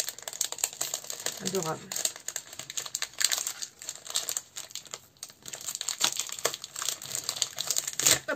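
Stiff plastic sticker packaging crinkles and tears open in bursts of close rustling, with a woman chatting warmly in French over the handling.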